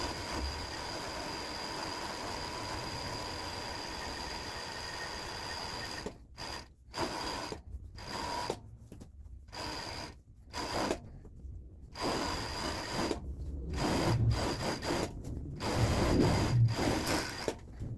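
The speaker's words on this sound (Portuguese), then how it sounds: "Vou passar o overlock na barra" Overlock sewing machine finishing a dress hem, first a steady continuous whir, then irregular bursts of stitching with short pauses between, close and moderately loud.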